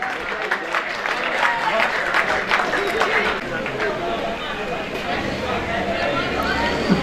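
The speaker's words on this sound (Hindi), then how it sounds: "और अपना भरपूर तालियों में" A school crowd at a boys' high school farewell party claps loudly and continuously to welcome a teacher, with voices and general hubbub mixed into the sustained applause.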